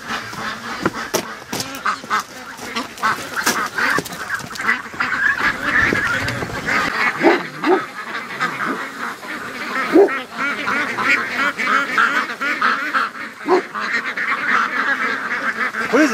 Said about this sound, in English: The ducks are freaking out.